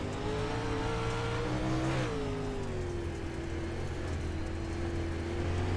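Dirt late model race cars at a speedway during a Pro Late Model Dirt Series race, engines droning loud and steady with a brief rise in pitch as the throttle is worked, continuous racing roar throughout.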